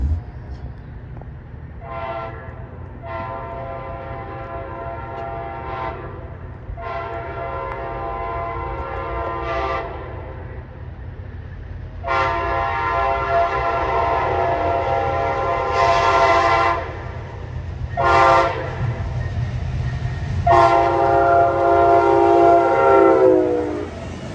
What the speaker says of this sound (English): I hope to catch CSX trains in action at Lakeland